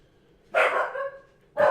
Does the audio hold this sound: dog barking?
yes